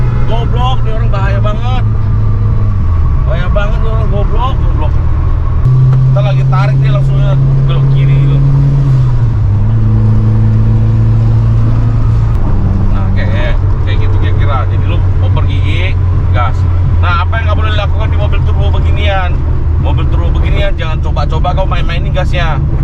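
Subaru GC8 Impreza Type R two-door, engine close and loud, revving up and down in stepped pulls and settling back to idle, with people talking throughout.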